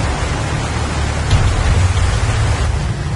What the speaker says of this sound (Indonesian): Hujan deras yang mengguyur hampir seluruh wilayah kota Pekanbaru Riau membuat kepekatan asap berkurang